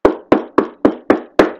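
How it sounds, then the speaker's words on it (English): Six sharp knocks on a door, evenly spaced and crisp, each a close, firm rap followed by a short decay, with no voices. "Beatrix knocks."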